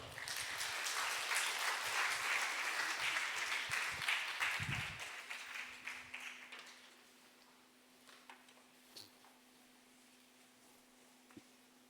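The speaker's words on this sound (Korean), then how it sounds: "박수하겠습니다" A church congregation at a Sunday service claps for performers coming up to the stage. Dense applause runs for about five seconds, then fades to a few scattered claps over a low steady hum.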